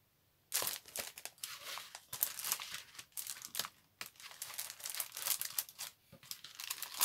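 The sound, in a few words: peeling a sheet of stickers off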